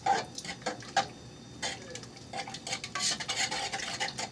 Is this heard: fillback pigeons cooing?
no